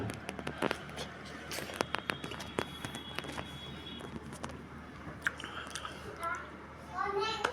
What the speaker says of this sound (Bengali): আম খাচ্ছি, খুব আম খাচ্ছি।